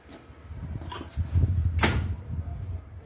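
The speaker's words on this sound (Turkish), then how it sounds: "Kapat kapıyı." A door being shut in a home with pitbull and dogo argentino dogs, with a brief bright clack in the middle of low, rumbling movement noise.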